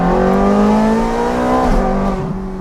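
A Ferrari 430 Scuderia engine holds a loud, close, tonal rev after a downshift to second gear, the pitch shifting partway through as the throttle changes.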